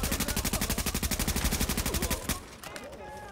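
Rapid automatic gunfire from the shooter game The Division, a fast steady burst of loud repeating shots for about two seconds before cutting off into quieter rumbling and faint background noise.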